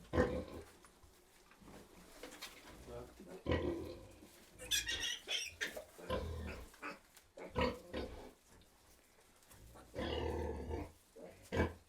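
Soft grunts and squeals from newborn piglets come in bursts, close and fairly quiet, with rustling between them.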